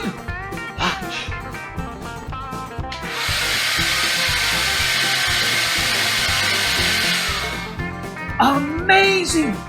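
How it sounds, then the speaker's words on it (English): A wind machine blasts air between two trash bags held up in a classroom science demonstration. The rush is loud and steady for several seconds, with a voice and chatter before and after it. "you can get a wind machine and two trash bags and do that experiment too"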